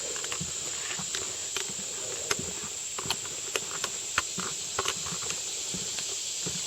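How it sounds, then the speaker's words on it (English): Slow footsteps tapping on a wooden boardwalk in the woods at an irregular pace, with a constant high insect drone in the background. "I'm just walking slowly along, looking for critters on the boardwalk and all."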